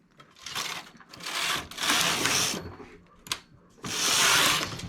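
A domestic knitting machine knits rows of a simple vest as the carriage is pushed back and forth, giving loud rushing mechanical sweeps separated by brief pauses and a sharp click.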